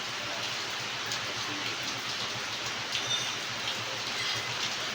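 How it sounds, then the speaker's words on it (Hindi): Steady rain falls outside, a dense even hiss of drops continuing without break, with no voices. "बारिश हो रही है, हो सकता है उसकी आवाज़ आ रही हो आपको"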